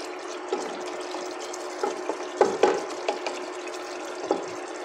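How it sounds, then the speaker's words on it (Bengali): Duck meat sautéed with spices in a pan, giving a steady sizzle with occasional scraping and stirring knocks up close, with no voices. "দেখতে পাচ্ছেন মাংসটা একটু কষে নেওয়া হচ্ছে যেন মশলাটা মাংসের ভিতরে সুন্দরভাবে চলে যায়"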